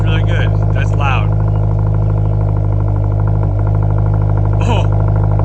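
A 2022 Subaru WRX with an MBRP axle-back exhaust idles loudly close by, its deep, throaty exhaust rumble steady while people talk over it.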